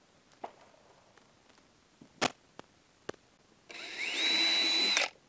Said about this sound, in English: Drilling bigger holes on this side